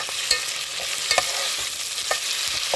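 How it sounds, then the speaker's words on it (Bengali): Ginger-garlic and cumin paste frying in a pan, a continuous hissing sizzle with a few soft stirring scrapes, close up and without speech. "এটাকে একটু ভেজে নেব। এখন দিয়ে দেবো আদা রসুন আর জিরে বাটা।"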